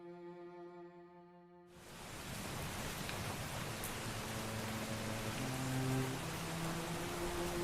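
Light rain falls steadily in a Minecraft game scene over a castle and mountains, starting as a dense hiss after a soft musical tone and continuing evenly alongside quiet sustained music notes.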